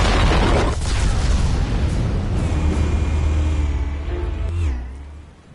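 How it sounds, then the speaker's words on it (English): A heavy explosive detonation in a Batman Telltale game lands right at the start, a loud deep boom that rolls into a long rumbling decay, with faint whooshing debris tones before it fades out. "Explosives armed. Fire when ready."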